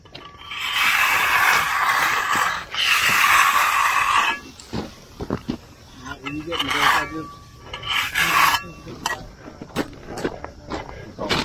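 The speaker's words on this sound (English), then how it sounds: "Just re-edging, reopening up the joints." A jointer and trowel scraping along the joints of freshly troweled concrete, rough rasping strokes in bursts, close, followed by softer scrapes and brief knocks.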